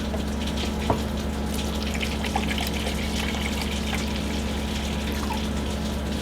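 Steady trickling and running hydrogen peroxide poured into a container, continuous and fairly even over a low constant hum.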